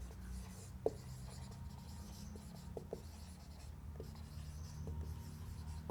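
A chemical reaction for alcohols is written on a board in a chemistry lesson, producing faint continuous scratchy stroke sounds with a few sharp taps, close and steady under a low room hum.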